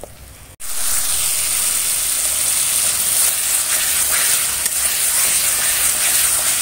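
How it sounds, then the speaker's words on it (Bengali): Spice paste being stir-fried in oil for an egg poach curry, giving a loud, steady, close sizzle and hiss that starts abruptly and carries on without a break, with no talking. "দিয়ে আবারও একটু কষে নেব ভালো করে, তেল ছাড়া পর্যন্ত।"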